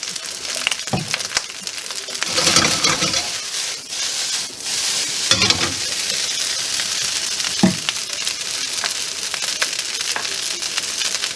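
Pork fried rice frying in a pan gives a loud, close, continuous sizzle broken by a few bursts of stirring and tossing, with no talk.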